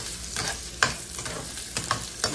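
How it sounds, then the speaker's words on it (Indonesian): Boiled chicken gizzards fry in a pan with a steady soft sizzle. A few sharp scrapes and clacks from stirring break through at irregular moments, with no talking. "Dan aku mau goreng sebentar aja."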